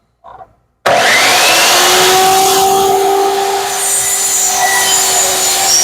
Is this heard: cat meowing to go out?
no